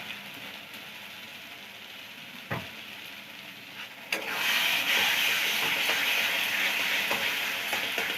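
Food being stirred and fried in a pan, a steady sizzle that turns into a louder, fuller hiss partway through, with scattered scrapes of a spoon against the pan.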